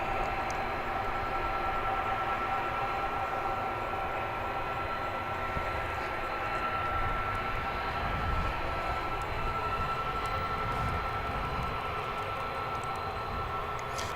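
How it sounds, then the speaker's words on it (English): Airbus A300 coming in to land at DFW International Airport, a steady broad jet roar held at a fairly distant, even level for over fourteen seconds with no talking. "Just see an A300 come in."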